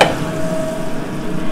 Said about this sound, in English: So I'm going to put some butter in the skillet.